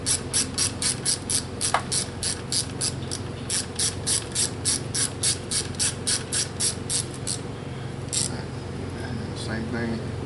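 A 1/4 inch drive ratchet spinning down a bolt during cylinder head installation on a 2007 Mini Cooper S R56, a fast even run of crisp clicks close up, pausing briefly near the end.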